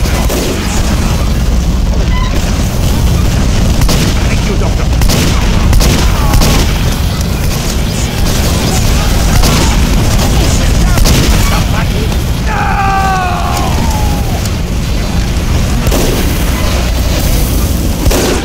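Team Fortress 2 online match full of loud, dense gunfire and booming explosions that go on without a break, with players talking over the battle noise.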